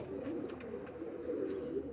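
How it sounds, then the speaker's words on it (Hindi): Pigeons coo in soft, repeated throaty bursts close by, with several birds overlapping in a steady low murmur. "ये सब के सब कबूतर बाकायदा उड़े हुए कबूतर हैं"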